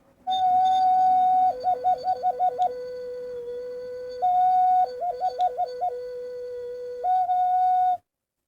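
A small bird-shaped whistle played as a musical instrument gives loud, close, pure whistled notes that hold steady, then break into quick warbling trills and return to the steady tone, repeated twice, with no voices.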